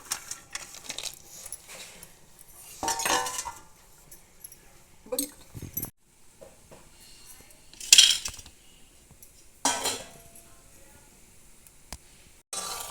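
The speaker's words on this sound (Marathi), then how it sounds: "सर्वप्रथम आपण आता काजू तेलामधून काढून घेणार आहोत" Fried cashews being scooped out of hot oil with a metal utensil: intermittent clinks and scrapes of metal against a pan, with short gaps between scoops and a voice talking in the background.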